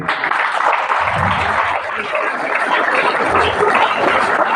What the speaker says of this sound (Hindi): कछार नवोदय विद्यालय जोरदार तालियों से सर का स्वागत करे।